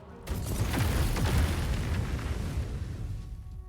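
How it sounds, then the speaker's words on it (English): A single heavy explosion in the video game Baldur's Gate 3 lands as a loud, deep rumbling blast that holds for about three seconds before tapering off. "Explosions!"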